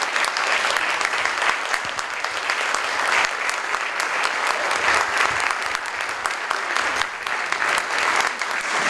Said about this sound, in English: All right, keep that applause going